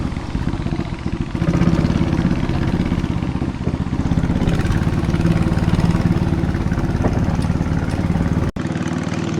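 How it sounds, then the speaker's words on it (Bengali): A boat engine starts and runs steadily on a river in Bandarban, heading from Thanchi toward Nafakhum, its loud continuous motor drone close by and unbroken apart from a brief dropout near the end. "আমাদের বোট স্টার্ট করে দিছে।"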